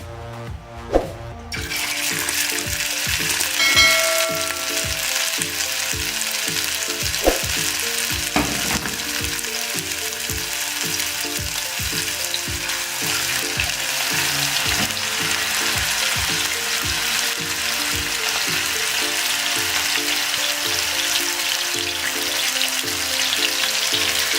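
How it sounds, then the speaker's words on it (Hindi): Chapli kababs made from minced meat deep fry in hot oil. A steady, close, loud sizzle and bubbling carries on without a break, with a few clatters near the start and no talking. "ऑयल हमारा अच्छे तरीके से गर्म हो चुका है। अब हम एक एक पकड़ के इसको डीप फ्राई करेंगे।"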